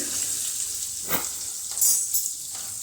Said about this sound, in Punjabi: ਹੁਣ ਇਹਦੇ ਵਿੱਚ ਅਸੀਂ ਪਾ ਦੇਵਾਂਗੇ ਪਿਆਜ਼ ਬਰੀਕ ਕੱਟੇ ਹੋਏ